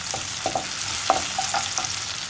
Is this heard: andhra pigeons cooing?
no